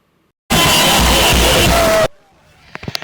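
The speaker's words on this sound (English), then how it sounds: "An unprecedented crowd of supporters and party faithful there at the Yola International Airport to give a rousing welcome" Large crowd of party supporters gathered at Yola International Airport to welcome a returning politician, a loud dense roar of yelling and cheering voices that cuts off abruptly, leaving faint scattered chatter and a few sharp knocks.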